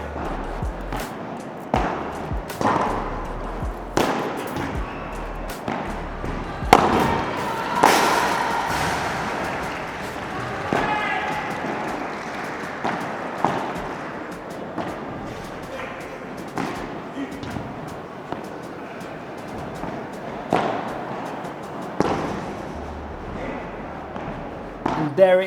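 A padel rally in a match against a UK pro, with a string of sharp ball strikes and volleys popping at an uneven rhythm over roughly twenty-five seconds, layered over a steady background of court and crowd noise.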